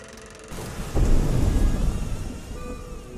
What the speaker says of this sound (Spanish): Esa noche llovía.